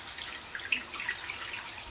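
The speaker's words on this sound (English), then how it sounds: "Et là on rince qu'avec l'eau." Tap water running over fish as it is rinsed in a sink during tilapia preparation, a faint, steady trickle with a couple of small splashes, no voices.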